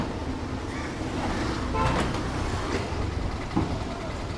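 A train passes near a railway station in Thrissur, Kerala: a steady, loud rumble with rail clatter that swells in the middle, with faint voices in the background.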